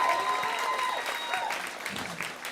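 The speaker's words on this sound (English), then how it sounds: "Big round of applause for that" Sustained applause from an audience at a student union election results night, steady and full throughout with a hint of crowd noise and a few voices underneath.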